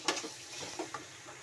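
Tomatoes sautéed in a pan with oil for pav bhaji: a close, soft sizzle with a few quick scraping stirs of a spoon across the pan, short and without talk.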